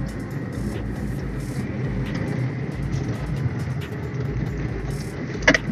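A Tata Nano small car driving and turning on a rough road, with a steady engine drone and road rumble heard from inside the cabin, loud and continuous, with no talk.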